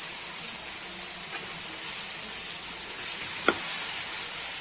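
Onions sautéing in a pan for Madurai-style fish curry give a steady, even sizzle and hiss that runs throughout, with one brief sharper crackle partway through and no voices.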